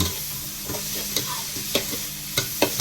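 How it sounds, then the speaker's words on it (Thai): Apple snails being stir-fried in a pan with fire lily flowers, giving a steady close sizzle broken by several sharp scraping stirs of the spatula at irregular intervals. "เราผัดหอยอยู่แล้ว"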